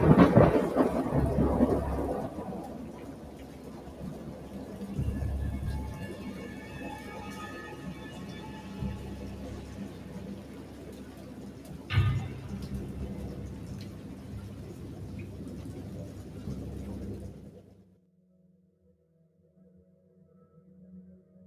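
Rain falls steadily while thunder rumbles low and long, with a sharper crack midway, before everything cuts to near silence at the end.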